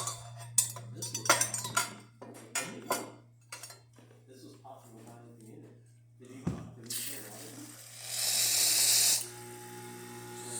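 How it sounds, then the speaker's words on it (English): Clinks and clatter of handling equipment, then a brief hissing rush as hot water spurts from a Rocket Appartamento espresso machine for about a second. "Let me test the hot water also."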